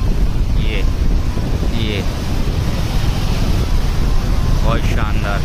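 Water roars through the open gates of a dam in Bhopal, a loud, steady broadband rush heavily mixed with wind buffeting the microphone, while someone speaks briefly over it.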